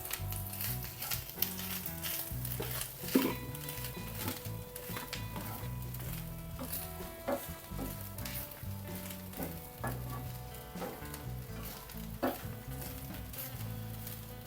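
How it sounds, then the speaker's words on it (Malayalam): Grated coconut roasting in a teaspoon of coconut oil for a Kerala prawn theeyal, a dense, steady crackling sizzle with rapid pops and occasional stirring scrapes, fairly close and continuous. "നമ്മുടെ തേങ്ങയൊക്കെ മൂത്ത് വരുന്നുണ്ട്."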